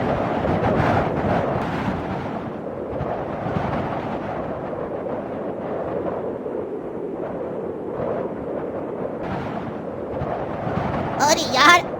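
A strong, gusty summer storm wind sweeps across a rooftop in a steady, loud, roaring rush that barely lets up, with faint voices mixed underneath.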